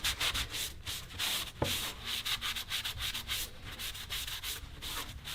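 Shop towel rubbing wax into chalk-painted furniture, a steady close scuffing and rubbing with quick repeated strokes that carry on throughout, with no talking.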